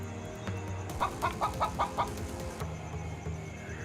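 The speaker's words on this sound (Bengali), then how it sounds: "এই ব্যাগের ভেতর একটা বড় কালো মুরগি আছে" A cartoon black hen clucking from inside a bag, a quick run of about six rhythmic clucks in the middle over a steady background bed.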